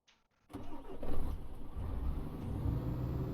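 A truck engine in Euro Truck Simulator 2 starts after a brief near-silence, catching with a loud surge and then settling into a steady rumbling idle.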